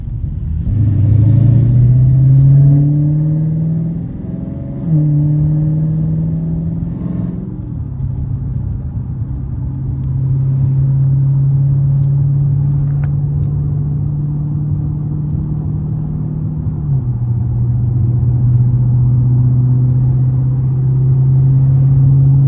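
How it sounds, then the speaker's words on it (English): A Dodge Challenger Scat Pack engine rumbling loud and close from inside the car while driving in the rain, revving up through gear changes and then settling into a steady low drone. "POV drive in the rain, sliding every corner, cutting up in the rain."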